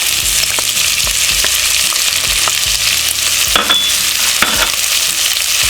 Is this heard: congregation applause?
no